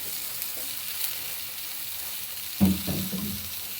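Vegetables for masala pasta fry in a pan, giving a steady faint hiss, then a sudden louder sizzle and scraping stir near the end.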